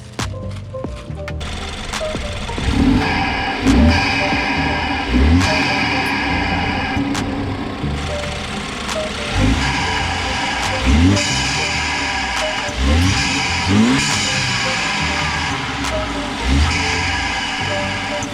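A BMW F30 engine runs close by with a rough, pulsing idle and several rising revs, mechanical rattle throughout.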